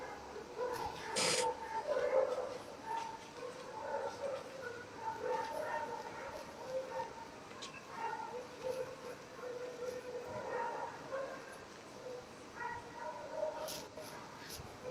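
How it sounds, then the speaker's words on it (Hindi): Dogs bark repeatedly and overlapping for the whole stretch, a few sharp yelps mixed in, fairly near over steady outdoor background noise. "ये कुत्ते भौंकने शुरू हो गए हैं फिर"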